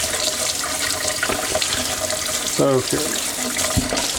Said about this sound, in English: Let the sink drain.